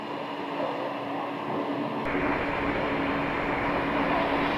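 A plane taxiing from the ramp to a parking spot at Scottsdale airport, its engines a steady broadband roar that swells and grows louder about halfway through, heard from a distance with no talking.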